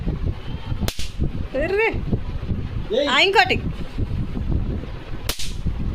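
Two sharp Diwali firecracker bangs burst a few seconds apart, with people talking and calling out between them against outdoor noise.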